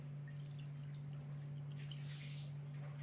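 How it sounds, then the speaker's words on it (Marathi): Faint trickling and dripping of water being poured into a pot, quiet and close, over a low steady electrical hum. "त्याच्यामध्ये एक दोन वाट्या पाणी घालूया"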